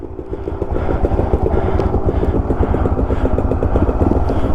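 A Yamaha TW200 motorcycle engine runs steadily up close on a cold morning, with a loud even thumping idle that keeps the same rhythm throughout and no talk over it.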